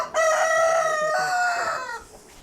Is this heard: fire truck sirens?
no